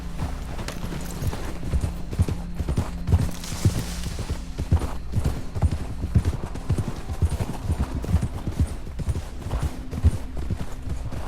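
Horses' hooves clip-clop steadily in Red Dead Redemption 2, a close, continuous rhythmic clatter of many hoofbeats with occasional low rumbles and a faint whinny underneath.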